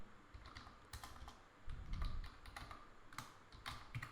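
A run of quiet computer keyboard keystrokes in irregular bursts, close and soft, with no talking.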